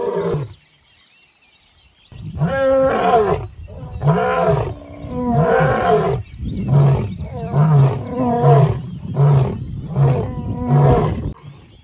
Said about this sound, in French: Ce cri s'appelle le rugissement.